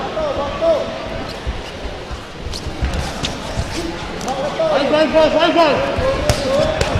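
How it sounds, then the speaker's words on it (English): Punches land with sharp thuds and slaps during a professional Fight Club Championship bout in a Thai ring, heard as scattered impacts under crowd noise and ringside commentary. "And you can hear the punches around the ring."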